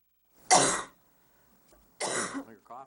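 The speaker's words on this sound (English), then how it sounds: "Your cough hasn't gone away." Two short throaty coughs at a county committee meeting, close and fairly quiet, separated by a pause, with a faint breathy sound after the second.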